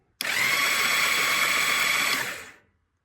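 Switching on the ignition of a Honda Valkyrie motorcycle sets off a sharp electric whirring buzz that starts abruptly, holds steady for about two seconds, then winds down and fades, close and alone.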